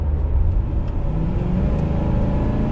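A 4.6 V8 in a Ford Crown Victoria Police Interceptor idling close by with a deep steady burbling rumble that holds even throughout.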